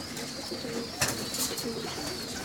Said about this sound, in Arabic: طلق الجانب باش يخرج الحمام باش ياكل